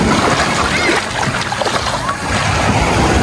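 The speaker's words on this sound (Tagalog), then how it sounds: "Ang lakas ng agos, oh." Strong current of water rushes loudly and steadily by a small stream or spring-fed pool where people are bathing outdoors, a dense wash of turbulent noise with people talking over it.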